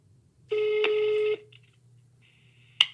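A steady electronic telephone tone holds for about a second, then a quiet pause and a short higher beep, a busy signal, over a faint low hum.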